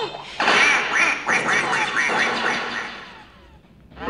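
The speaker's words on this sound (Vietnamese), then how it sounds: "Mình cứ thấy cái con vịt này ra là mừng rồi" A duck quacks repeatedly in a mobile video game, a loud run of nasal quacks in close succession that fades out, with a brief new burst of sound at the very end.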